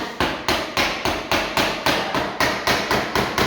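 A plastic hammer taps steadily on a sliding door roller part, striking through a leftover flooring scrap: about a dozen sharp, evenly spaced knocks at a brisk rhythm, close and loud with no talking.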